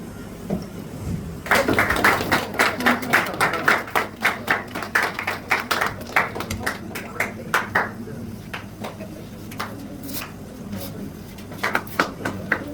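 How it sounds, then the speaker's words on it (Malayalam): An audience applauds at a family club's third anniversary event in Kerala, with a burst of scattered hand claps that swells, then thins to sporadic claps, while a voice talks over it. "നല്ല കയ്യടി കൊടുക്കണം."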